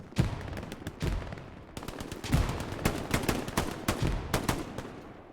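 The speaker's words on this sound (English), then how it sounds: "We've got ourselves a little grenade throwing contest going on over these walls." Grenades and gunfire in an 18-versus-18 playoff match of a multiplayer shooter, with rapid, dense cracks of weapons fire and heavier blasts layered over one another, loud and almost continuous.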